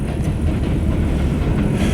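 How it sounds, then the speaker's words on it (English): A train speeding through a small town, heard as a continuous heavy low rumble with faint rhythmic rail clatter, steady and close, with no voices. "that train going through here fast"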